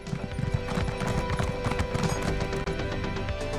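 Horse hooves clip-clop in a video game, a dense, loud run of rapid thudding hoofbeats throughout, with a whinny mixed in and a brief dropout near the end.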